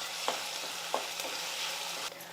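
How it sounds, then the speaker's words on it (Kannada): Steady, even sizzling of tomato and onion frying in a pan, with a couple of soft clicks from stirring. "ಟೊಮೆಟೊ ಉಳ್ಳಾಗಡ್ಡೆ ಎಲ್ಲ ಫ್ರೈ ಆಗ್ಯಾವು"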